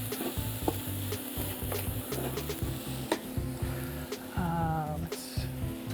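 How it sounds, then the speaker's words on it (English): Rice is stir-fried in a hot pan, kept moving with a spatula, giving a steady sizzle broken by rhythmic scraping and tapping strokes against the pan, with a low mechanical hum underneath. "And let's put that rice in there and get it hot."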